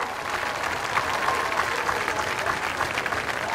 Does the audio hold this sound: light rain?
no